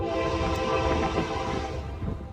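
A train rolls past on a railway track right beside the listener, a loud, continuous rumble with wheel noise and a brief horn-like tone, no talking.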